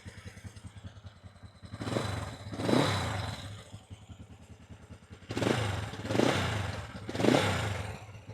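Honda Black Bomber motorcycle revving in bursts, four surging throttle blips over a low idling rumble, close and fairly loud with no talk.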